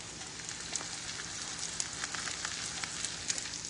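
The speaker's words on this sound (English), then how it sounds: "The whites are starting to cook." Egg whites sizzle steadily in a hot pan, a constant close crackling hiss with scattered pops, no voices over it.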